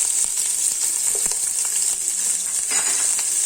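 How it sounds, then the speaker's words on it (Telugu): Onion and peanuts frying in a pan for vermicelli upma, a continuous bright sizzle with occasional stirring scrapes, close and steady without talk. "నేను 1 కప్ ఆనియన్ కూడా వేసేసుకుంటున్నా."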